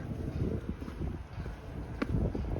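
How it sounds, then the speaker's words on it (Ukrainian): Steady wind roars and buffets the microphone throughout on a rooftop viewing platform in London, a broad low rumble with gusty swells and a brief sharp knock near the end. "тут сильний вітер"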